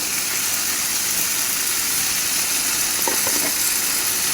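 Dry coriander powder and ground fennel go into a frying masala, giving a loud, unbroken close-up sizzle with a few faint clinks partway through and no talking.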